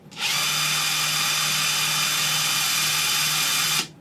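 A Bosch impact driver spins at its lowest speed setting, 1, giving a smooth, steady motor whir with a low hum underneath, starting quickly and stopping cleanly after a few seconds.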